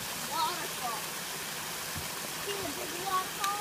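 Steady broadband rush of a waterfall and stream at Sunrise Park fills the scene at moderate volume, with faint scattered voices and small sounds in the background.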